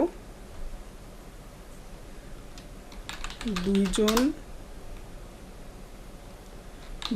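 Someone types a text prompt on a computer keyboard, with a short burst of quick clicking keystrokes near the middle over quiet background hiss.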